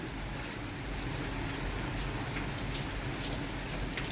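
Heavy rain driven by strong wind outdoors, a dense, constant hiss of drops striking surfaces close by, steady and unbroken with no talk.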